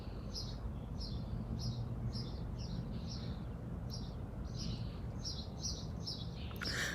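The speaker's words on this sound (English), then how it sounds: "It's just birds chirping everywhere." Birds chirp outdoors in a steady series of short, bright tweets repeating every half second or so over a low, constant background rumble, with a blue jay nearby.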